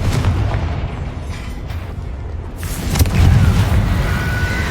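A Confringo blasting spell in Hogwarts Legacy erupts in a loud, rumbling explosion with dense booming noise that swells and holds through the whole span.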